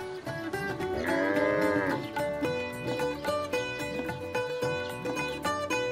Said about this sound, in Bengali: কি শফিক, গরু কিনলা?